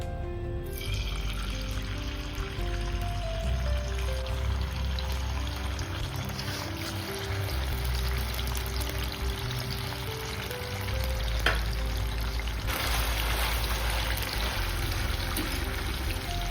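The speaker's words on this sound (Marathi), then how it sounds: "आता आपण पनीरला तळून घेऊया" Paneer fries in hot oil for vegetable biryani, giving a continuous, fairly loud sizzling hiss with bubbling that holds steady throughout, no voices.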